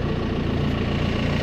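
A farm tractor engine idles steadily and loudly, a constant low rumble with mechanical vibration running unbroken throughout, with no voices.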